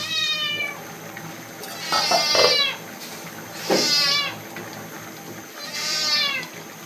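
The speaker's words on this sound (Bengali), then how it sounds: "আর বিড়াল চানা চিল্লানি শুনতে পাচ্ছেন আপনারা।" Cats meow and yowl in three or four drawn-out rising cries in a village home during heavy rain, mid-distance and fairly clear over a steady background hiss.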